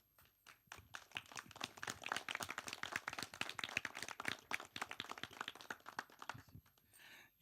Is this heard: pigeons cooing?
no